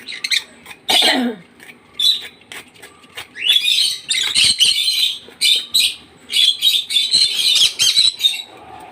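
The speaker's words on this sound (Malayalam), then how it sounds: "കുറേ കിളികളുണ്ട് ഇവിടെ" Several birds squawk and chirp in irregular bursts, sharp, high calls close by with brief pauses between them.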